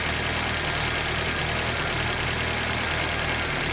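A 1995 Geo Prizm engine idles with no throttle during a vacuum test, a steady, continuous mid-pitched rumble with a faint knocking vibration and broadband hiss, close and loud with no talking.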